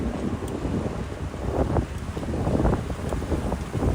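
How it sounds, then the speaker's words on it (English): Steady, loud wind rushes and buffets the microphone while cycling the Jamaica Bay loop in New York City, a continuous roaring wash with faint rattles and no voice. "A little bit of a pushing wind here."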